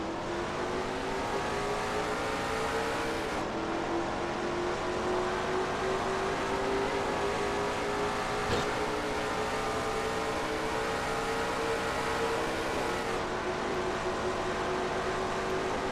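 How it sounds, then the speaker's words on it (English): Heard from a roof camera on a race truck during a restart, the engine holds a loud, steady, high droning tone that breaks sharply at two gear shifts before climbing again, with no talk over it. "You can actually hear the shifting of the gears as Cole Deaver puts her in the high gear."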